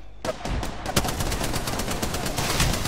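Rapid automatic gunfire from the video game Apex Legends, a dense continuous burst of shots starting sharply after a brief quiet moment and holding loud and steady to the end.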